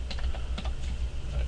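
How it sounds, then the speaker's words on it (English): Typing on a computer keyboard while entering a ping command in Cisco Packet Tracer: a quick run of light, close key clicks over steady low background hum. "So I'm going to type in ping"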